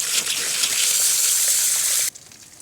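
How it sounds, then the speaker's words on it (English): Water poured from a can onto a plant cutting in soil, a loud steady gushing hiss up close that stops abruptly, with no talking. "give it a nice drink of water,"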